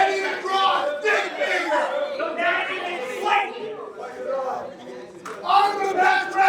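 A crowd at a student wrestling showcase shouts and chants in rhythmic, rising bursts, close and lively throughout, with voices overlapping.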